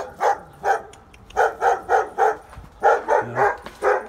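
Dogs barking near a house, a run of about a dozen sharp barks in quick, uneven bursts with brief pauses, fairly close and loud, with no talking.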